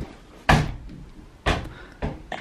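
A London apartment door being opened and shut, giving three distinct knocks and thuds spaced about a second apart, close by, with no talking.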